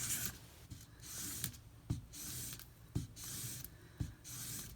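A BRK Northstar knife is drawn across a well-worn 600 grit sharpening stone in soft, rhythmic rasping strokes, about one per second, quiet and close with no talking.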